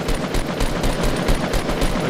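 Automatic gunfire in Fortnite Battle Royale, a rapid, even burst of shots at roughly eight per second sustained for about two seconds, loud and close.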